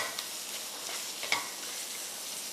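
Prawns sautéing in a pan for Chinese prawn egg rice make a soft, even sizzle with a few light clicks from stirring.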